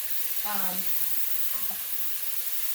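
A steady hiss of onions simmering in a cast iron pot outdoors, with a brief low scrape of stirring early on; no voices.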